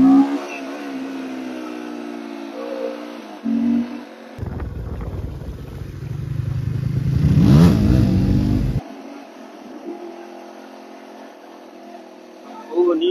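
A Daelim Roadwin 125 motorcycle engine revs hard for a wheelie, a loud rising and falling roar that swells to a peak and then cuts off, with someone speaking over the quieter stretches before and after.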